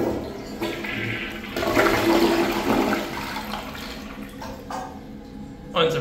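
Kohler Kathryn one-piece toilet flushing with the handle held up: a steady rushing swirl of water that swells midway and tapers into a refill trickle, close and fairly loud, with a brief knock near the end.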